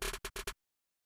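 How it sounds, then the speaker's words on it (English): A snare drum sample in a hip-hop type beat hit four times in quick succession, crisp and punchy, then cut to silence. "Snare sounds like this."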